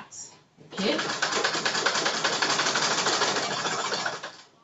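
Sewing machine run with a pedal stitches at a steady, rapid mechanical rattle for several seconds, starting abruptly and fading at the end, close and fairly quiet.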